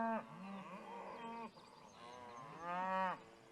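Cattle out on a drive with horses: a cow gives a long, deep, resonant moo, pauses, then a second rising moo, fairly close and loud over a faint background.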